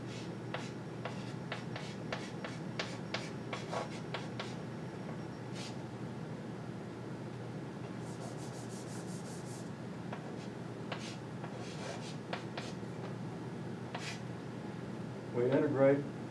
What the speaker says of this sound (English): I better write the expression down